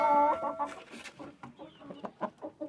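A rooster clucks in short, soft, irregular bursts close by after an opening call, in a quiet coop setting without speech.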